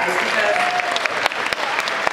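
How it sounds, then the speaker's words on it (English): A big round of applause from the crowd at the 2013 Integrity Toys doll convention, with dense clapping, a few sharp claps standing out and voices faintly mixed in. "I just want a big round of applause for you guys"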